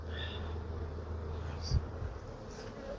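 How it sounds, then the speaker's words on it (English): Honeybees buzz steadily around an open hive frame during an inspection, a soft continuous low hum with one brief louder bump midway. "Don't worry about the bees. They'll crawl out in a second."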